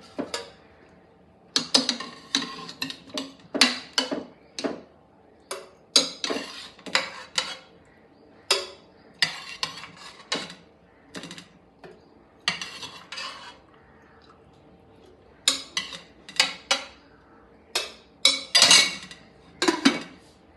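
Pressure-cooked potatoes moved from the cooker onto a plate, repeated close metallic clatters and scrapes of utensils and cookware in irregular bursts with short quiet gaps, no voices.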